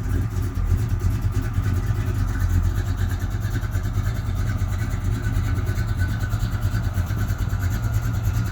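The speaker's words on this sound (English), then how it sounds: "Man, this is the first time I've seen it moving on motor." A 1987 Chevrolet S10 truck with a V8 and a 3800 stall converter idles and creeps out of a garage, a steady, close, loud low rumble throughout with no clear revving.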